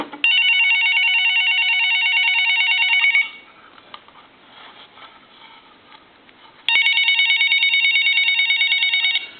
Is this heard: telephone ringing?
yes